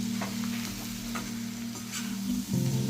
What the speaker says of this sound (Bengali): তারপর আলুর টুকরোগুলো দিয়ে দিলাম। আলুর সাথেও মশলাটা কিছুক্ষণ ভাজবো